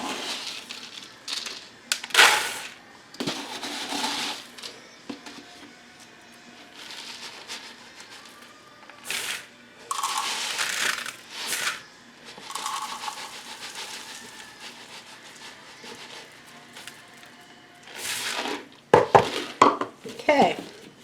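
Old-fashioned rolled oats scooped and poured by the cup into a bowl, with repeated rustling pours and metallic clinks in bursts, close and fairly loud.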